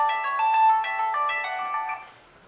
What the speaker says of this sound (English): And that's a phone call.